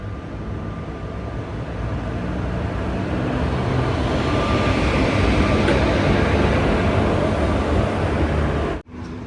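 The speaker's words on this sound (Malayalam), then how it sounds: "ഇതാ ഇവിടുന്ന് ട്രെയിൻ എടുത്തിട്ട് പോവുകയാണ്." A train pulls out of Nileshwaram station with a steady, broad rumble and rolling noise that builds gently and holds, ending abruptly.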